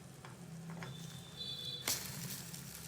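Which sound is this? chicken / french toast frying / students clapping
french toast frying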